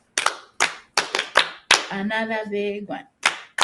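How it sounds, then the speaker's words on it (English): A group claps in unison, with about six sharp, loud hand claps in an uneven rhythm and a short spoken phrase breaking in between them. "Clap for yourselves."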